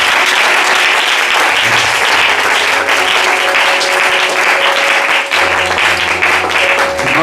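A church congregation applauds the Lord with loud, sustained clapping and some crowd noise. It fills the whole stretch without a break.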